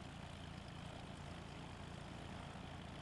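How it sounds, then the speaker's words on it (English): Helicopter in the DayZ Epoch video game flying not far off, a steady low rotor and engine drone that stays even and fairly quiet throughout, with no talking. "There's a chopper flying not far from me."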